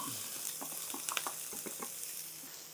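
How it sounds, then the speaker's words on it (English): Steady sizzling of vegetables and peppers in a hot frying pan, with crackles and pops over a constant hiss. "there's that nice little sizzle"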